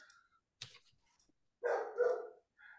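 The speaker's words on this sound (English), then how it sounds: "you can hear my dog in the background" Dog barking in a home during an online photo chat, a couple of muffled barks with a short trailing yip, somewhat distant and fairly quiet, heard alone between pauses.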